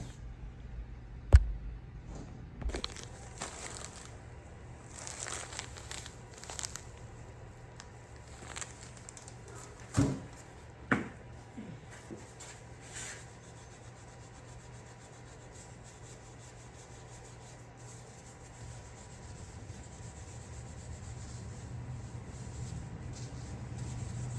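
Scrubbing by hand produces irregular rasping strokes in bursts, strongest early on, then settles into quieter, sparser rubbing, with no voices.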